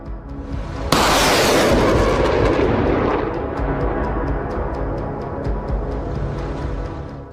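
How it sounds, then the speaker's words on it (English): A Russian T-80 tank fires its main gun in a ruined urban area among damaged buildings and rubble, with one sharp, loud blast that rolls into a long, decaying rumble over steady background noise. "a T-80 tank can be seen firing to its left in an area of raised buildings and rubble"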